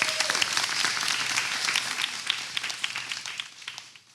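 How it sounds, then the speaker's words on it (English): Audience applause welcoming panel guests onstage at a fashion week brand talk, a steady wash of many hands clapping close and continuous throughout the short stretch. "Can you please help me give them applause?"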